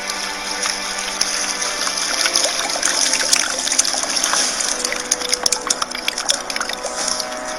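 Water gushes steadily in the video game Kenshi, pouring from a corpse's body in a continuous, hissy splashing flow with scattered drips and gurgles, fairly loud and alone.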